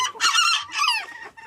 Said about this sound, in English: this gives me something to do besides just throw food at chickens.